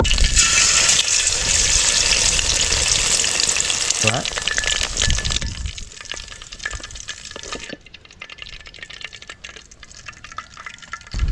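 Quail 65 pieces deep-frying in hot oil give a loud, dense, steady sizzle up close that drops noticeably after about five seconds, then settles into a quieter crackle.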